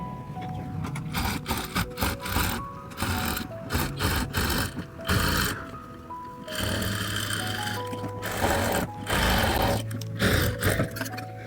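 Sewing machine stitching the edges of blouse fabric in quick rattling bursts with short pauses between runs, close and moderately loud.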